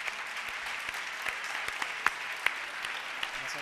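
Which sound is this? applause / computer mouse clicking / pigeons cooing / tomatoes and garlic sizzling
applause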